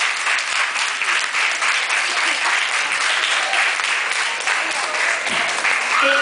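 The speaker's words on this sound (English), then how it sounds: "let us rise and give a round of applause to our dear parents, staff, faculty, and administration of this institution." A graduation audience applauds continuously, dense steady clapping from a large crowd filling the room at an even loudness throughout.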